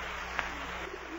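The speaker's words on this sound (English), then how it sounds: "Go away, pigeons." Pigeons cooing in a park as a radio drama effect, soft throaty coos under steady broadcast hiss, fairly close and without talk.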